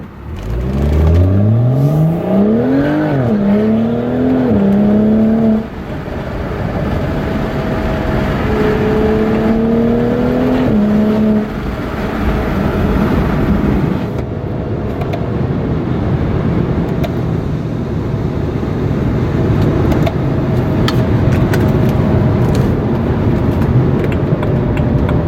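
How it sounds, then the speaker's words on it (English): A BMW 135i with an MHD tune revving, its exhaust rising and falling in pitch through several throttle blips before settling into a loud, crackling, rumbling burble, close and unaccompanied by talk. "So right now it's got a pretty mild but longer lasting burble."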